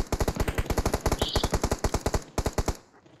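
Automatic gunfire from the video game PUBG Mobile rattles out in loud, rapid, evenly spaced bursts close by, with a brief gap before a final short volley that trails off.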